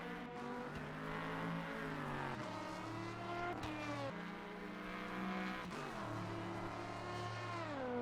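A Norma M30 LMP3 prototype racing through a video game qualifying session at Le Mans, its engine droning loudly and continuously with rising and falling pitch as it shifts gears, steady and close throughout.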